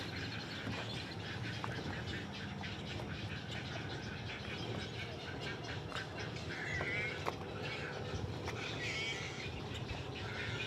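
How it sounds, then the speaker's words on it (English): Many birds, including ducks, call at once from an island on Lake Eufaula in the morning, a dense continuous chorus of overlapping chirps and squawks with a steady background rumble. "we're on an island that has got a lot of birds having a time this morning"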